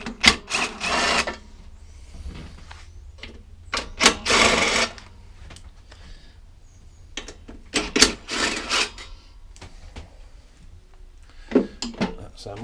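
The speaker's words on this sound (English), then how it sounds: "we've got a couple of 3/8 bolts to undo" Tools work 3/8 bolts loose on a lawn mower during a service, producing scattered bursts of close metallic ratcheting and clicking separated by quiet gaps.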